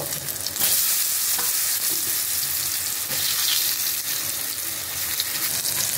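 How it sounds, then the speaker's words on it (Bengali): Pointed gourd (potol) pieces fry in hot oil with a loud, dense, continuous sizzle close up, with occasional stirring scrapes and no talking. "এখন আমি পটলগুলো ভালো করে ভেজে নেব"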